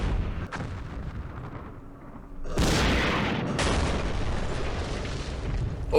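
Missiles blast in the Campaign Series Middle East war game, with a sharp crack followed by two heavy, booming detonations that leave a dense, rumbling roar. No one speaks.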